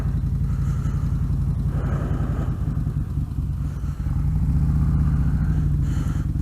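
A motorcycle on a commute has a steady mid-pitched engine drone with wind rumble that rises and falls slightly as it rolls along. A faint clatter comes through near the end.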